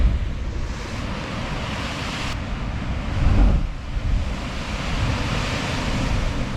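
Big ocean swells roll through during a fishing trip, a broad steady wash of surf and wind noise with one louder surge midway, no voices.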